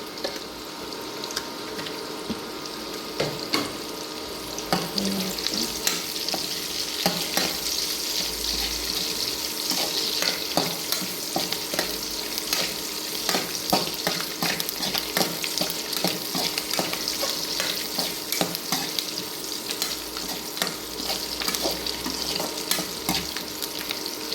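Marwai clams sizzle and fry in a pan while being stirred, a steady close crackle with frequent scraping and clattering strokes throughout.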